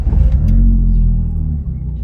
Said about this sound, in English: This car starts every time.